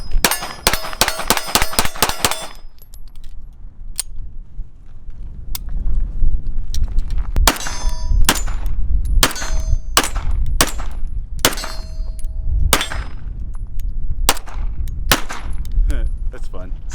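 Springfield Armory Garrison 1911 chambered in 9mm fired outdoors at steel targets: a rapid string of about eight sharp shots opens, followed by slower, spaced single shots, each with a bright metallic ring, loud and close.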